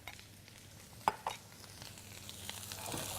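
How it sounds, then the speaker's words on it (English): Onions and peppers sizzle softly in a pan, with a couple of sharp spoon clicks as they are stirred, all faint and close with no talk. "Stir it up a little bit so you don't burn them."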